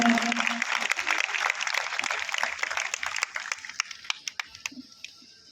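Audience applause welcoming a cabinet minister on stage at a university event in Chhattisgarh: dense clapping that gradually thins into scattered individual claps, with a brief voice near the start.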